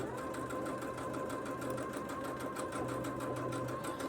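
A domestic sewing machine runs steadily at close range while piecing a scrappy Christmas pinwheel quilt top, giving a continuous even whir with a fine rapid stitching rhythm throughout, no voices.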